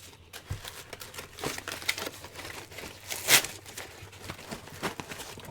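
A shipping package is ripped open up close, with papery crinkling and tearing that continues throughout and one sharper rip partway through.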